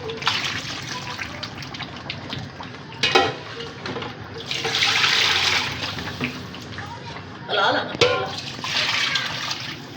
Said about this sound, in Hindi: अब इसके अंदर जो है पानी ऐड कर रहे हैं।